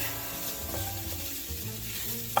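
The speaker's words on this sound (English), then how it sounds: "we're going to add the onions. Mix those up in a little bit." Onions being mixed into a sizzling pan mixture make a faint, steady frying hiss with low stirring scrapes and a sharp small clink at the very end.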